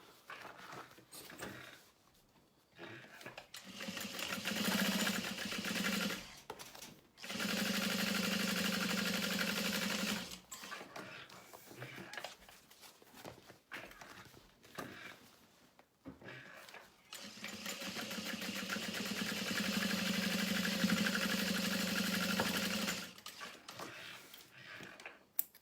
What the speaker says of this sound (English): You could add another row of stitching right next to it if you want to just go another mile